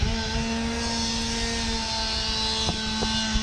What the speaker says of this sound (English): Sorry about the chainsaw noise.